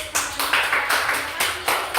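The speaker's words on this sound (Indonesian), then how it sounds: "tepuk tangan dulu untuk" Rhythmic classroom applause from students in a maths microteaching lesson on measures of central tendency, clapping in a patterned beat with several sharp bursts close by and no voices over it.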